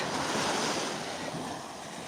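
Ocean waves wash in the shallows where someone walks barefoot, a broad steady hiss of surf with wind buffeting the microphone, close and fairly loud, easing slightly toward the end.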